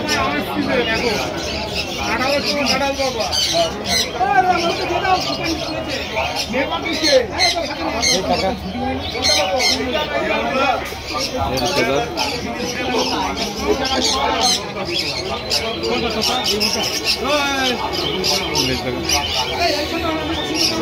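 Pigeons at the Krishnagar pigeon market squawk and flutter-coo constantly in a busy, close chorus, with someone talking over the birds and chatter in the background.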